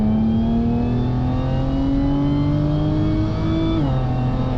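An Audi S4 B8 accelerating hard from inside the cabin, its engine note loud and steady as the pitch climbs gradually, then dipping briefly near the end with a gear change before pulling on.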